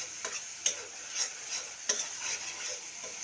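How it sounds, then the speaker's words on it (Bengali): Spice paste frying in oil for a curry of ash gourd and egg, with a steady soft sizzle and scattered scraping stir strokes from a spoon in the pan. "একটুতেই মশলাটা ভাজা হয়ে কিন্তু তেল তেল হয়ে যাচ্ছে"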